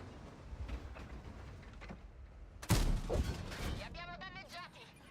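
Artillery shells land in World of Tanks gameplay, a sharp heavy boom cutting through ongoing battle noise partway in, followed by rumbling impact and clattering debris, all moderately loud within the busy game mix.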